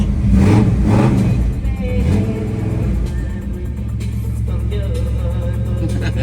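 A Ford Bronco engine rumbles and revs up loudly at the start of a test drive, then settles into a steadier running drone, heard close up with faint voices in the background.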